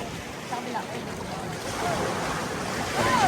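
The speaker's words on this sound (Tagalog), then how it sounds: "Ang lakas ng alon" Strong surf at Patar Beach rolling and crashing continuously, with heavy wind noise buffeting the microphone and faint voices in the background.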